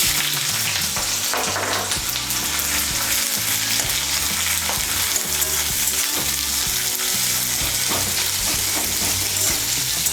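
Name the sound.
chopped onion frying in hot oil with black cumin and green chilli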